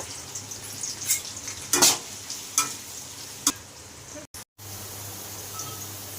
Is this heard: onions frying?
yes